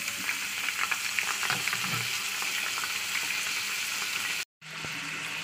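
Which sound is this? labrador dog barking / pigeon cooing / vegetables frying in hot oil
vegetables frying in hot oil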